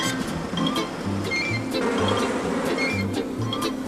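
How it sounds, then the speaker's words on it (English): Honeybees buzzing in a dense, continuous drone at an open bee colony holding a queen, drones and workers, steady and close with a few brief louder passes. "A bee colony usually contains one queen, several hundred drones and many thousand workers."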